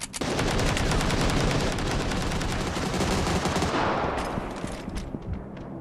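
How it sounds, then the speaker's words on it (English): Rapid Desert Eagle pistol shots in a video game fire in a dense, loud barrage for several seconds, then trail off into a few scattered echoing cracks. "what the fuck is he shooting me with? The deagle."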